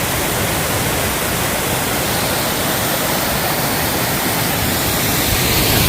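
Storm runoff water rushes down a hillside in Nelson, New Zealand, a loud, steady broadband roar of flowing water close by, unbroken and without voices.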